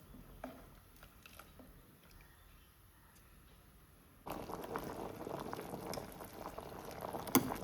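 Sweet potato godshe simmers in a pot, a faint bubbling with soft pops at first, then a louder, denser boiling and bubbling sound that continues steadily to the end.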